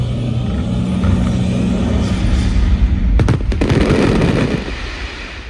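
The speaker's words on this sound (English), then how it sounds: "Those fireworks were spectacular." Fireworks burst at Alton Towers as a loud outdoor display, dense low booms and rumbling with a rapid cluster of sharp cracks near the middle, continuous and fairly near, no talk.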